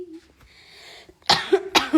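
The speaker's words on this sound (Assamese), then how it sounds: "মোৰ কাহ হৈ আছে দেই" A singer, on an Instagram live, makes a brief soft vocal sound and then gives two sharp, close coughs in quick succession.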